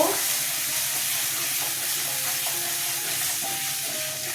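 Ground cumin and coriander frying in hot oil in a pan for a thin fish curry, a steady close hissing sizzle that holds at an even level throughout.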